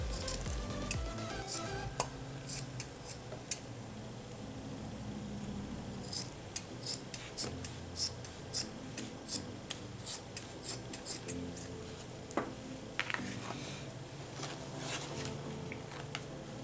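Scissors snip steadily through material for a handmade journal cover. The quiet, crisp cuts come in irregular runs, with soft rustling between them.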